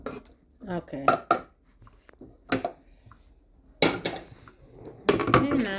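Chopped food is dropped into a cooking pot in a home kitchen, making several sharp clanks and knocks of utensils against metal with quiet pauses between, and a voice speaks briefly.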